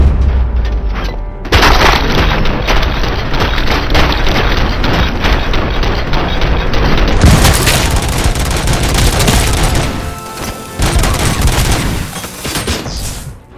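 Booming explosions and heavy gunfire fill the RoboCop Rogue City game scene almost continuously, with a massive blast hitting at the start and dense, loud volleys running on to the end without talk.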